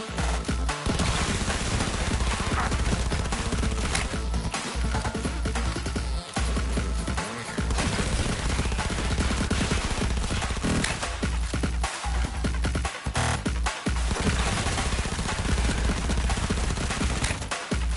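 Rapid gunfire in the video game Cyberpunk 2077 fills the scene, with dense, loud bursts of shots and short gaps between volleys, continuing almost without pause.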